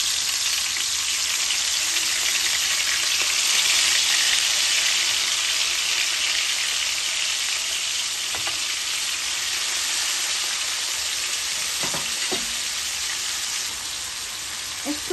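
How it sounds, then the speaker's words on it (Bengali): King prawns fry in hot oil for a King Prawns Bhuna, a steady close broadband sizzle running throughout with a few brief clicks and pops from stirring near the end. "এখন আমি একটা একটা করিয়া কিংপ্রন গুলা দিলাইমু বা চিংড়ি মাছ, আর অনলি আমি 40 সেকেন্ড ফ্রাই করবো।"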